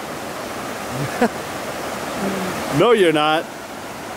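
A river swollen with rainwater rushes in a steady broadband wash, like a waterfall or stream, running beneath brief talk near the end.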